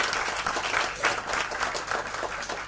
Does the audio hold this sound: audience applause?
yes